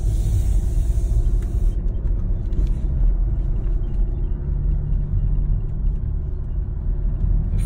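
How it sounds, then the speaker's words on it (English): Car accelerating on the road, heard from inside the cabin as a steady, moderately loud engine rumble and road drone that continues evenly throughout with no talking. "I'm accelerating pretty much exactly as I did before"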